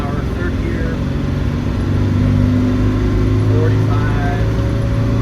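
A 1995 Land Rover Defender 110 with the 300Tdi diesel pulls steadily up through the gears, its engine a continuous loud low drone that grows a little stronger midway, heard close from inside the vehicle.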